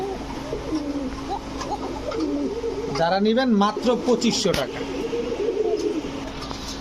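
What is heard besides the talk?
pigeons cooing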